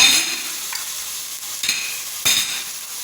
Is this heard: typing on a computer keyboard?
no